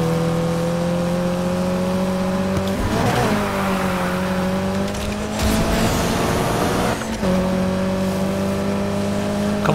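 Racing cars roar through a race in the video game Need for Speed Heat, a steady loud engine drone with shifting pitch and brief tire-squeal bursts, continuous and close throughout.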